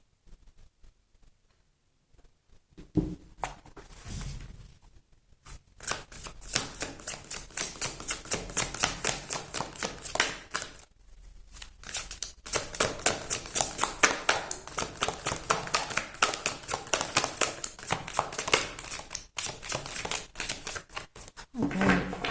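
Rapid, papery riffling and clicking of cards being shuffled in several bursts, with short pauses between rounds and a voice speaking at the start.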